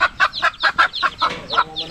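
Chickens cluck in a quick, steady series of about a dozen short calls, fairly close and clear, with no talking over them.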